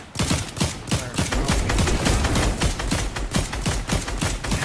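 Rapid gunfire from Fortnite, a dense volley of loud, sharp shots in quick rhythm lasting several seconds, close and sustained with no talk over it.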